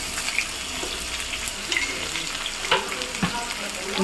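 Chopped onions hit hot oil in a pan, giving a steady, close sizzle with occasional stirring scrapes and clinks, no talking.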